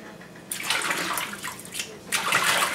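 Wild salad greens gathered from a garden get rinsed under running water, a loud, hissing splash that surges twice in broad bursts, with water pouring steadily between them.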